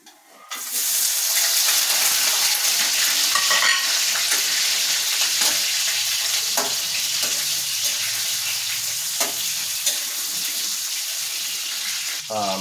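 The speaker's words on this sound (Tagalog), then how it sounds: "Tayo magsasangag" Garlic fried rice for breakfast frying in a pan, a loud, steady sizzle held for several seconds with occasional scraping stir strokes and light clatter, close by, without talking.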